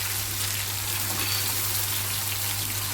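Onion and tomato sizzle steadily in hot oil in a pan, a continuous close crackling hiss with fine popping throughout, with no talk.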